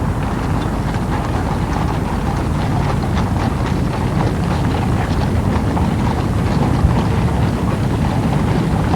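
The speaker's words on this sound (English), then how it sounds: "the sound of horses' hooves on the gravel" Continuous crunching clip-clop of many horses' hooves on a gravel parade ground at Trooping the Colour, a dense steady tramp under a broad outdoor rumble, with no voices.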